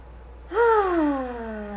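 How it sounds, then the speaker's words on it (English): A single deep breath released as a voiced sigh, a clear falling exhale lasting just over a second after a quiet start. "I just want to take a deep breath now"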